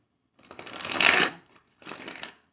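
A deck of tarot cards is shuffled close up in two bursts, a longer riffling swell of about a second followed by a shorter one, crisp papery flutter in an otherwise silent room.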